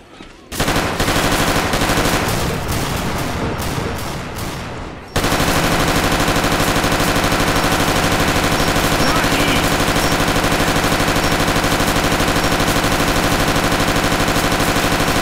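Assault rifle fire in Left 4 Dead 2 rattles in loud, rapid bursts, then turns into a dense, nonstop roar of automatic gunfire for the rest of the stretch.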